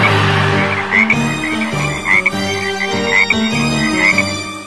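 Loud, repeated frog croaks in a steady rhythm, several calls overlapping close by with no talking.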